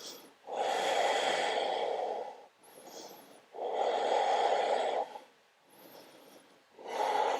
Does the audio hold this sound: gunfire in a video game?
no